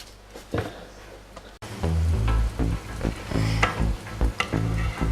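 Tomatoes and shallots fry in a pan with a crackling sizzle that jumps louder as food is tipped in. Spatula scrapes and clattering stirs break up the bubbling hiss.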